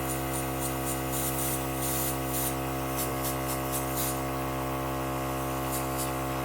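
An airbrush driven by a Temptu 2.0 compressor hisses steadily while spraying bronze makeup, with a constant motor hum beneath and short bursts of stronger spray close to the microphone; no one speaks.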